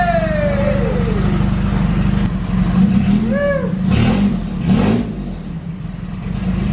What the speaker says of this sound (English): got the car up and running